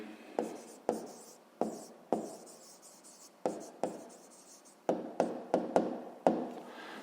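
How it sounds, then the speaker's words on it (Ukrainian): Handwriting with a pen on paper while an answer to a 5th-grade math exercise is written down, a series of crisp tapping strokes, about a dozen at uneven spacing, close and quiet with no voices. "записуємо відповідь"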